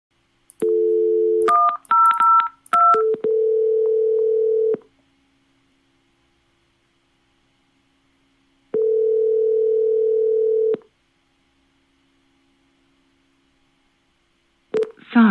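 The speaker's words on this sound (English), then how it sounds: "we'll just call from that second line to Bob Johnson's main line" A telephone on a second line dials out, giving a burst of quick DTMF keypad tones and then long steady ringback tones separated by silence, clear and close with no voices.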